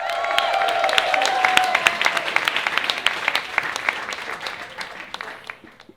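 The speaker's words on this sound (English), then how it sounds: "please make some noise for Miz Cracker" Audience applause at a drag roast show fills the room, a dense wash of clapping that swells early, then thins into scattered claps and fades out.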